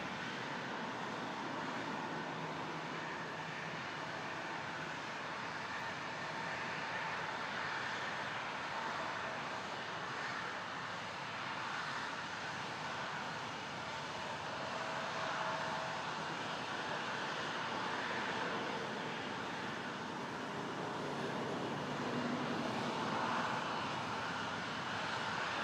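An Air Canada Rouge jet airliner taking off from runway 23 at Toronto Pearson, a continuous distant engine roar holding steady and swelling slightly toward the end.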